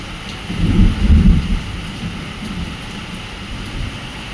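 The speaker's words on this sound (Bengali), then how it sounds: "বাইরে বেশ ভালো বৃষ্টি পড়ছে, বিদ্যুৎ চমকাচ্ছে, মেঘ ডাকছে।" Heavy rain pours outdoors at night as a loud low thunder roll peaks early and then fades into a steady, dense patter of rain.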